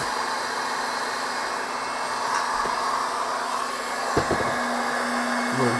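A heat gun blows steadily on the wiring harness of a 2001 Ford F-250 with a 5.4 engine, a constant close whooshing roar broken by a few light clicks.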